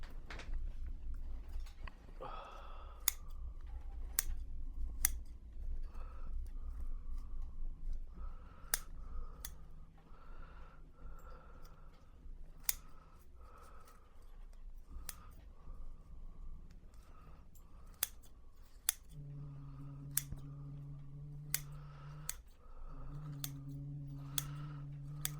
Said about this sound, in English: Now with the scissors